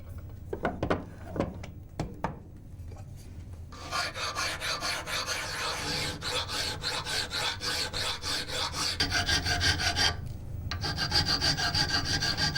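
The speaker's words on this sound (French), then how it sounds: "une des extrémités du barreau est dressée à la lime" Hand file rasping across the end of a type metal bar: a few isolated strokes, then a long run of rhythmic, close scraping strokes with one short pause.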